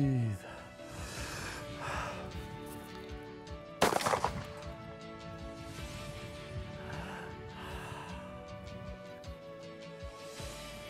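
A Beretta A400 shotgun fires one HEVI-Shot waterfowl load at a pattern target outdoors: a single sharp, loud blast about four seconds in, then a fading tail, with quiet talk before and after.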